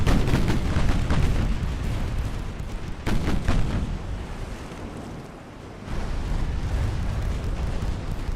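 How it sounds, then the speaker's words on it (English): Heavy warship guns fire in the naval video game Ultimate Admiral: Dreadnoughts. The booms are loud, rolling and continuous, with sharp fresh salvos near 0 and 3 seconds and another surge near 6 seconds, and no talk. "Let's enjoy the sound of those guns going off."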